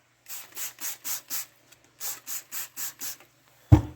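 A Honda CT70 part is wet-sanded by hand with 150-grit sandpaper in close, even rubbing strokes, two runs of about five swipes each with a brief pause between, then a sharp knock at the end.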